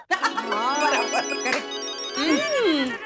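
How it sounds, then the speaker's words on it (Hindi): A mobile phone ringtone plays a bright, warbling melodic tune at close range, with rising and falling electronic tones repeating across the few seconds in a domestic setting. "फोन आया।"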